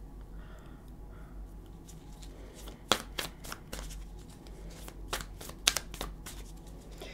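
A Cosmic Tarot deck is shuffled up close in a quiet room. Several crisp riffles and card slaps arrive in quick bursts over a faint low hum.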